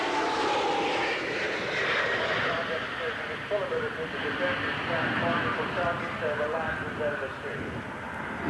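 British Aerospace Nimrod aircraft engines roar overhead at the Farnborough air show in 1986 in a broad, continuous drone that slowly shifts in pitch, with a voice faintly beneath.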